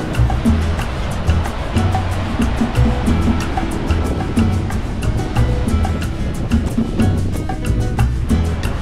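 Strong surf breaking on a beach at Ocean Park, Puerto Rico, a loud continuous wash and roar that fills the whole stretch, mixed with low rumbling that could be a passing vehicle nearby.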